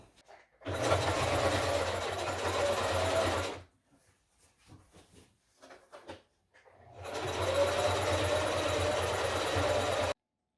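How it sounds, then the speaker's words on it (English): A heavy-duty sewing machine with a thick needle sews a French seam through several layers of fabric in two loud, steady bursts with a rumbling motor hum, separated by a pause with soft handling noises. "The sewing machine now has to sew through several layers of fabric"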